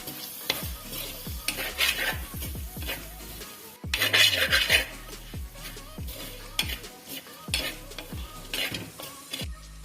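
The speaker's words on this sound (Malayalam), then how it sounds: "ഇനി ഈ പൊടിയുടെ പച്ച ചിവ മാറുന്നത് വരെ ഒന്ന് മൂപ്പിച്ചെടുക്കാം" Chili powder sautéed in oil for a fish curry, with close, loud scraping strokes of a spoon stirring against the pan in an uneven rhythm over a hissing sizzle, with brief pauses between bursts.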